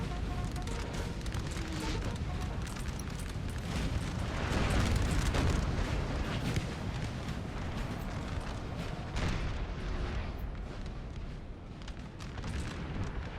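Dense, continuous booming and crackling blasts fill the scene, a heavy barrage of cannon fire in Napoleon: Total War with overlapping explosions and no clear pauses.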